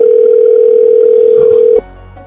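A telephone dial tone hums steadily and loud for nearly two seconds, then cuts off abruptly, leaving only faint low background noise.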